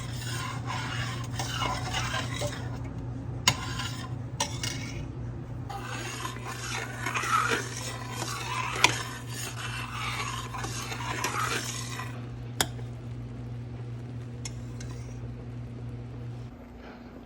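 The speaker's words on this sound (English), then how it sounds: "we're just going to keep stirring and watching and cooking because we don't want it to scorch from the bottom" Strawberry jam cooking in a pot is stirred steadily, a soft scraping and rasping of the spoon against the bottom over a constant low hum, with a few sharper knocks, no talking.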